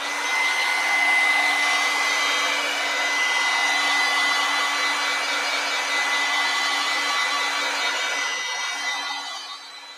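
A hair dryer blows steadily on a painting page for an acrylic painting of a witch with a cat in a fall forest, giving a loud, constant whirring rush that eases slightly at the end.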